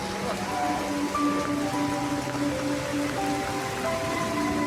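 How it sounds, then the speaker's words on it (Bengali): Rain falls at Prinsep Ghat beside the Hooghly River in Kolkata, a steady even patter that stays constant and fairly loud throughout, with faint tonal hums in the background and no speech. "বর্ষাকাল শুরুর আগেই চলে এসেছি বৃষ্টিতে ভিজতে প্রিন্সিপ ঘাট"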